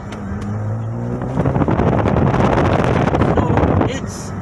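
A Toyota MR2 with a 2GR engine swap pulls away from a stop, the engine note rising and growing louder as steady broadband rumble and wind noise build and hold for a few seconds.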